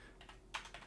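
A few quiet clicks from a computer keyboard as values are typed in, faint and close, with soft irregular keystrokes and no talking.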